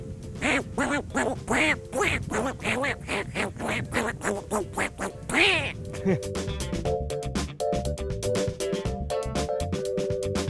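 Someone does a human imitation of Donald Duck's voice: a nasal, raspy quacking babble in quick bursts, followed by a rapid run of choppy duck-like squawks.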